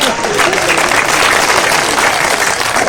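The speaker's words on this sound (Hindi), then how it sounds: "ताली वाली अगर बजा रहे हैं तो जोरदार बजाएं" A crowd at a Hindi poetry gathering (kavi sammelan) claps steadily and fairly loudly, a continuous wash of applause holding even throughout with no pauses.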